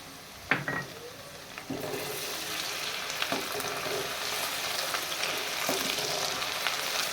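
Garlic ginger paste sizzles and fries steadily in a pan with browned onions, loud and close, with a clatter of a spoon stirring near the start and soft scraping now and then.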